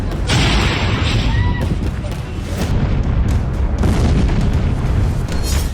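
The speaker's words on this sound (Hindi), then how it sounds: "हाइपरसोनिक स्पीड से 4 किंजल मिसाइलें कीव में अलग अलग जगहों पर गिरी" Kinzhal hypersonic missile strikes in Kyiv, heavy booming blasts and deep rumbling, loud and dense, with a voice speaking over the din.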